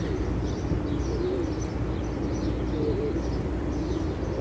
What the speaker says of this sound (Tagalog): And guys, ang daming ibon.